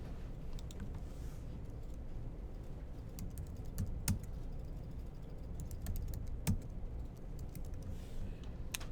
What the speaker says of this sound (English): Type some stuff in.